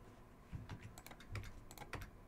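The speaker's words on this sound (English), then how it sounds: "The keyboard wants to work." Fingers tap out irregular, close clicks on a computer keyboard, keystrokes in quick bursts over a quiet room tone, with no voices.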